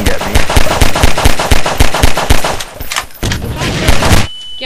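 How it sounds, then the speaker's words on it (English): Automatic gunfire in Garry's Mod, a fast, steady string of loud close shots that briefly breaks off, resumes in a second burst, then stops abruptly. "Are you shooting at me?"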